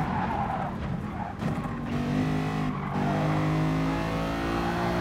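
A race car engine in Gran Turismo Sport roars on while chasing a GTR, with sustained high revs, rising pitch through gear changes and bursts of tire squeal, loud and continuous.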